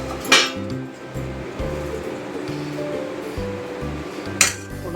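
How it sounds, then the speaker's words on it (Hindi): A lid lifted off a container of wheat-flour and jaggery batter, giving two sharp clinks, one at the start and one near the end, with quiet handling noise between. "ढक्कन उठा देती हूँ।"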